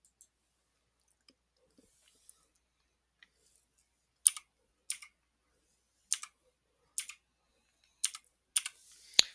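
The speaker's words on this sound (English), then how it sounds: "you're going to type it in." Short bursts of clicking keystrokes on a computer keyboard as a verification code is typed in, coming in small clusters roughly every second after a few faint isolated clicks, close and fairly quiet with no talking.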